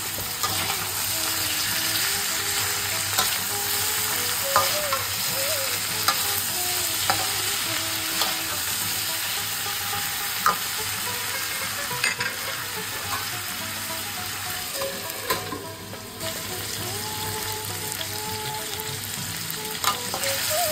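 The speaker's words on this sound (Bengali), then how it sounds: "সবজিটা আমাদের খুব ভালো করে ভাজা হয়ে গেছে" Peas, beetroot and carrot fry in a pan with a continuous loud sizzle, broken by repeated scraping and clinking as the vegetables are stirred, with no talking over it.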